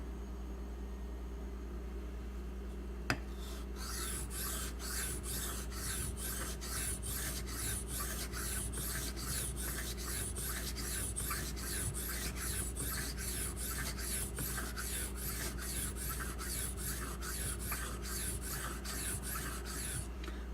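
A knife blade is sharpened on a Razor Edge clamp system, producing steady, rhythmic rasping strokes against the stone at close range over a constant low hum, after a brief quiet start.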